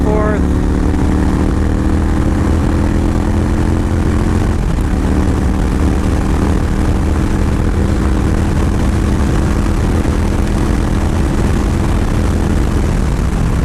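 A Yamaha Stryker 1300 chopper's engine pulling hard after a downshift to fourth, a loud, continuous droning roar with a steady harmonic pitch that dips and climbs, heavy wind rush layered over it, and a rider's voice speaking along the way.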